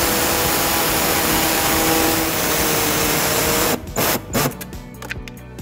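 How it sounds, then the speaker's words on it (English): An air saw cuts the plastic underbody panel of a 2012 Lexus RX350 with a loud, continuous high-pitched buzz. The buzz breaks into choppy bursts and stops near the end. "we're going to be using our air saw to cut that"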